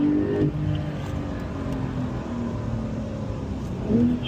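A Porsche accelerates on a driving track at the Porsche Experience Center in Los Angeles, its engine a steady, close drone that swells and rises in pitch toward the end.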